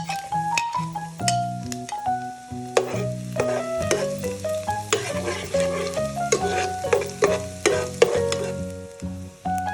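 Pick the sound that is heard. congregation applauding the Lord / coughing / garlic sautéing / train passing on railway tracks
garlic sautéing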